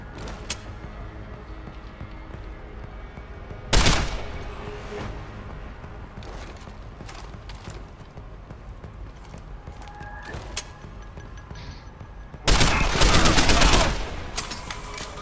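Two loud bursts of gunfire from headshots in Deus Ex: Human Revolution, one near the start and a longer, heavier volley near the end, separated by quiet game ambience with faint clicks.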